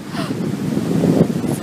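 Sea waves wash up onto a windy Uruguayan beach, a close, swelling surf rush mixed with gusty wind noise.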